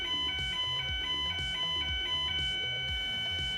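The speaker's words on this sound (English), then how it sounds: "I forgot it's Wednesday, so the fire alarm goes off." Fire alarm going off in a building, a loud repeating electronic tone pulsing in a steady rhythm with shrill harmonics, continuous and close throughout with no talking.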